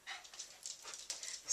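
A pet dog pants close by in quick, breathy bursts, with a slight whimpery edge, no one talking.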